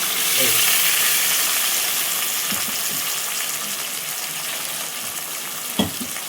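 Masala capsicum curry frying hard in a pan, a loud, steady hiss of sizzling oil throughout, with a single metallic clank near the end.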